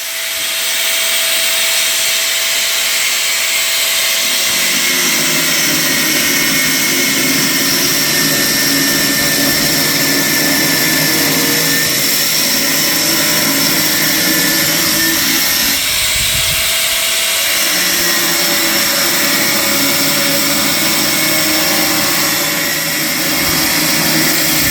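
A power tool grinds loudly and continuously through a metal cylinder being cut in half for a rocket thermal mass stove, a steady whine with the pitch shifting slightly as the cut progresses.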